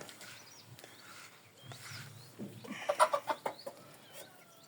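Two-month-old Dominant Blue, Lohmann Brown and Hy-Line White hens cluck softly at close range, with a brief burst of louder clucks and squawks near the end over a faint background.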